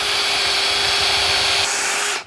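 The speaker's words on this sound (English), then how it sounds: "So what I'm going to do is drive a screw up." A power drill drives a screw into a timber wall batten with a steady, loud whir, holding a constant tone for about two seconds before winding down and stopping.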